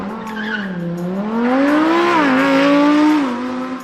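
A Lamborghini Huracan Performante with a 5.2-liter naturally aspirated V10, driven in Forza, revs up in a loud, close, rising howl that holds and dips slightly, with faint tire squeal, no talk.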